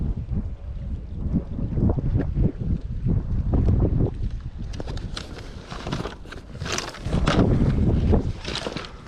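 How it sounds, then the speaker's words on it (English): Strong gusting wind buffets the microphone beside a lake during a bass fishing outing, a loud continuous roar that swells and rushes throughout, with water and boat noise underneath. "The wind today is doing its thing for sure."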